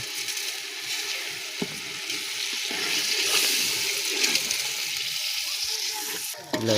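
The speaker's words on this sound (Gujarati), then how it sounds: "ચોખા નાખ્યા પછી પાણી નામવાનું છે" Water poured into a pot of rice and prawns for prawn biryani, a continuous rushing, splashing gush that swells in the middle and cuts off near the end, with no talking.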